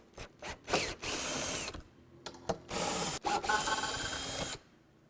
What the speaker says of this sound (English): let's go ahead and remove it from the pallet with our 14mm socket